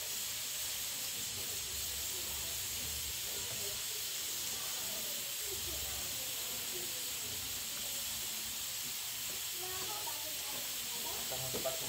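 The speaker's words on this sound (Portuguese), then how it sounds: "Vou escorrer aqui, gente, essa água já." Cooked pasta water drains from a pot, giving a steady, unbroken hiss of steam that stays even and fairly close throughout, with faint clatter underneath.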